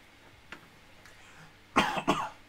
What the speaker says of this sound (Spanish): la tos me va a matar algún día